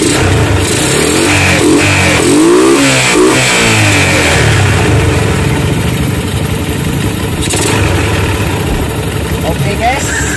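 A repaired motorcycle engine runs close by with throttle blips and revving swells over an idle, loud throughout, while someone talks over it now and then.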